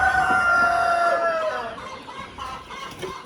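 Brahma chickens on a poultry farm, a rooster crowing loudly and close for over a second, its call trailing off as hens cluck softly and scratch in the background.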